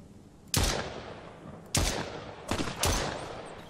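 Gunfire in the survival video game Mist Survival: four sharp, booming shots at uneven intervals, loud and close, each trailing off in a short echoing tail with no talk.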